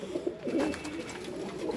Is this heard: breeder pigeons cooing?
yes